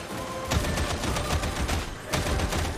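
Rapid gunfire in the video game Warhammer 40,000: Darktide: dense bursts of shots crackle in quick succession, with sharper volleys standing out, loud and continuous with no talk.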